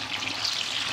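Tofu sizzles in hot oil in a frying pan, a steady bright crackling hiss filling the short moment without any talk.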